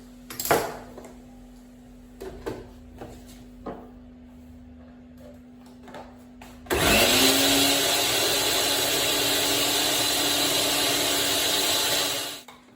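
A few clatters and knocks, then a kitchen blender motor starts with a rising whine and runs loud and steady for several seconds blending pumpkin punch before cutting off.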